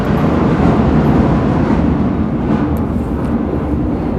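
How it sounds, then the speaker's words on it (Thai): Royal Thai Air Force jet aircraft warming up engines nearby, a loud, steady low roar that holds constant throughout with no talking. "เป็นเสียงนะครับ เครื่องบินครับไอพ่นนะ ของกองทัพอากาศไทยนะนี่ไม่ใช่เอฟเฟกนะ เสียงเครื่องบินนะเขาซ้อม วอร์มเครื่องนะ"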